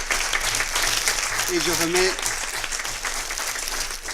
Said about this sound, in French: je veux vous inviter à tous applaudir le panel